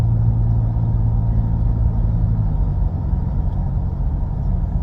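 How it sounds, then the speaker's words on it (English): Car engine crawling in slow weekend traffic, a steady low rumble heard from inside the vehicle, with a faint hum that fades partway through. "Gosh, this traffic is slow."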